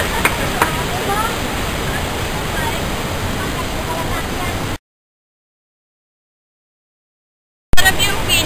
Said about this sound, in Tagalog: narating din namin ang Malibig-Libig Falls.